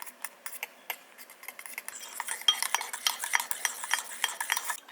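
Pancake batter being mixed with a utensil in a bowl, a steady run of close, light scraping and tapping strokes against the bowl that grows busier and denser partway through, with no talking.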